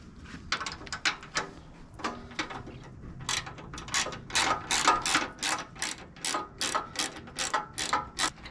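A ratchet loosens an 8mm bolt under a small cover on a 2023 Indian Challenger motorcycle, giving close, repeated clicking strokes in quick rhythmic bursts that grow louder and more regular partway through.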